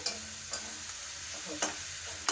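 Bitter gourd stir-fries in a pan with a steady oily sizzle, punctuated by several brief clicks and scrapes of a spatula, close and moderately quiet with no talking.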